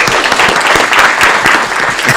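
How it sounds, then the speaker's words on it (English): Loud, dense applause from an audience at a city employee recognition event in Aurora, a close, continuous roar of many hands clapping for a couple of seconds without talk. "let's give her a round of applause before I read that"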